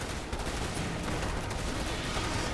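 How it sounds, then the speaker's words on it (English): Shotgun barrage in Starship Troopers: Terran Command, heard as a constant, dense roar of overlapping gunfire with no break, loud and close throughout. "And shotgun barrage as well."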